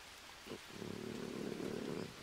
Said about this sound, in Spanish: Estoy escuchando el gatito.